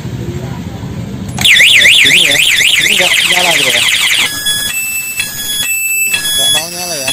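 Anti-theft alarm on a Yamaha Vixion motorcycle, a loud warbling electronic siren that sweeps rapidly up and down, then switches to steady pulsing beeps, with someone talking under it.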